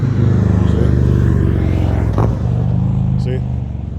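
A motorcycle engine revving in a video game, a loud continuous droning rumble with a steady throb that holds throughout and eases slightly near the end.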